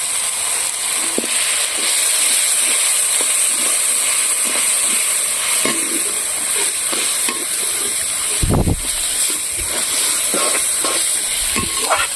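A little water poured into hot oil and spice paste for a chicken-stuffed pointed gourd dish, a loud close sizzle and steamy hiss with bursts of spattering and stirring clatter throughout.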